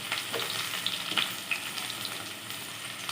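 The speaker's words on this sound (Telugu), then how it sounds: "ఆనియన్ మంచి గోల్డెన్ బ్రౌన్ కలర్ వచ్చే వరకు వేసుకోవాలి" Onions sizzle steadily in hot oil with cumin, a dense continuous crackle and hiss with a few sharper pops, close and fairly quiet throughout.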